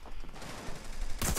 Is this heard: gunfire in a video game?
yes